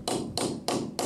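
A hammer pounds a sleeve bolt into a drilled hole in concrete: four sharp, evenly spaced metallic strikes close up, each with a short ringing decay.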